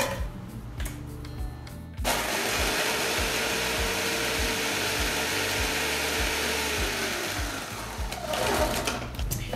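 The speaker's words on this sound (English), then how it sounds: "I'm going to pulse them in my" A kitchen blender crushes cookies for a mini cheesecake crust, its motor roaring steadily and loudly up close for several seconds after a quieter start, then winding down near the end.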